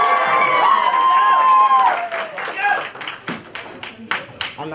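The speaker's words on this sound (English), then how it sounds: "We got to keep that cheer going" Audience at a performance showcase cheers and then breaks into brisk clapping, with a loud voice over the start that gives way to scattered applause.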